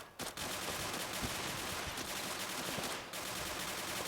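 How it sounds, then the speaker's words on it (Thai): Dense, continuous automatic gunfire fills the moment in the Bullet Angel shooting game's mummy mode, loud and sustained with only brief gaps, and no talking. "ชูวาน ใช้ปืนกากๆเลย"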